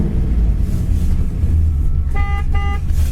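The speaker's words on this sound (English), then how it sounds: "Horn works." A 1997 Pontiac Trans Am with a manual 6-speed sounds its horn in two short bursts, loud and close, over a steady low engine rumble.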